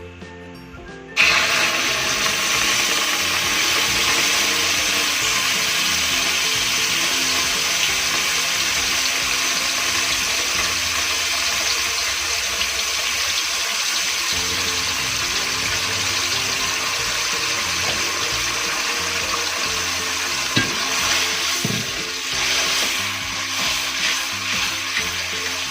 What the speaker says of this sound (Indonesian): Ini minyaknya sudah panas, jadi langsung saja kita masukkan bumbunya.